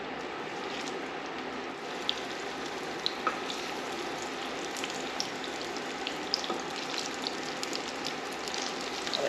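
Shrimp frying in a hot pan for a sweet and spicy Mongolian dish, a steady close sizzle with scattered crackles and pops throughout.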